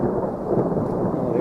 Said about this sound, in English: There's some thunder there.